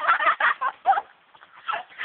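Hiccup-like vocal noises resembling duck quacks, a series of short nasal bursts in irregular rhythm, close and fairly loud, with a pause in the middle before a few more.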